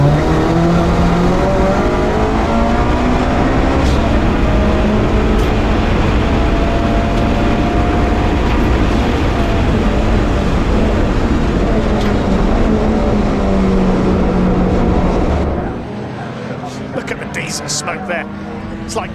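Audi racing saloon cars at Snetterton circuit: a loud, continuous engine roar with shifting revs as the cars pass, under a commentator's voice, dropping suddenly to a quieter, distant drone near the end.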